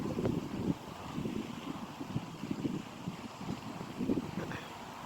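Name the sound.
wind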